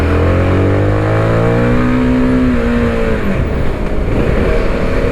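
A CF Moto 250SR motorcycle pulls away uphill, its close, loud engine note rising steadily in pitch as it accelerates, then dropping and roughening as the revs fall near the end.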